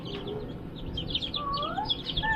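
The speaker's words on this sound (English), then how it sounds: "Listen to them all chirping away" Day-old baby chicks chirping: high, thin peeps and rising whistles come in quick scattered bursts, fairly faint and close, over a low background rumble.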